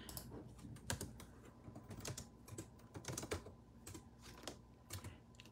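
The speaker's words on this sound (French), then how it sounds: "J'essaie de taper rapidement pour ne pas vous faire ça dans les oreilles trop longtemps." Quick typing on a computer keyboard during a live scrapbook art session, a fairly faint, close patter of irregular key clicks with no talking.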